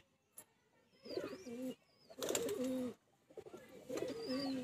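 Pure white flying pigeons, a tournament breed, coo close by in three rolling, throaty bouts separated by short quiet gaps, with faint higher chirps mixed in.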